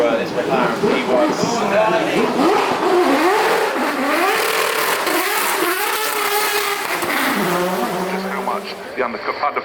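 A McLaren P1 at the Goodwood Festival of Speed 2024 revs hard and close, its engine pitch climbing and falling in repeated surges, with a voice speaking over the noise throughout.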